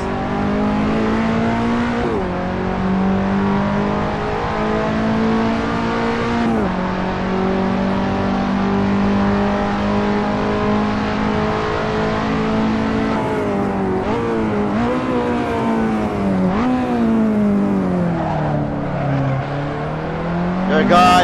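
Race car engine in the Assetto Corsa video game, a loud continuous drone that rises steadily through the gears with repeated shift dips and a final rev, heard close inside the car.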